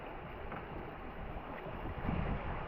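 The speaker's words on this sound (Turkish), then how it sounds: "Arkamıza geldi rüzgar." Wind blows steadily onto a sailboat during a race, producing a continuous rushing roar with low buffeting that swells slightly toward the end. There is no talk.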